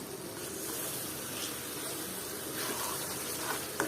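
Water poured from a cup into a pan of Bengali bacha fish curry, giving a steady, soft gushing splash that runs evenly for a few seconds with no voices.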